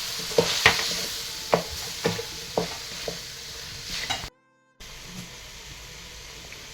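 Vangibath ingredients being mixed in a pan over low heat: a soft frying sizzle with repeated spoon scrapes at an even pace, then a brief gap and a quieter hiss.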